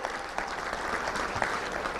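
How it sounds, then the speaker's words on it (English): Touchdown Club members at a Little Rock luncheon give a steady round of applause, a soft, even wash of clapping from a crowd throughout. "let's give it a big round of applause."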